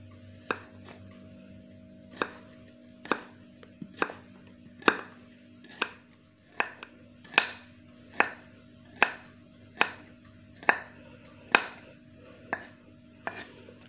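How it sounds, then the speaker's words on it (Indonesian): A knife slices garlic thinly on a cutting board, giving about fifteen crisp, evenly spaced chops close by over a faint steady hum. "untuk bawang putih sisanya kita iris-iris tipis ya"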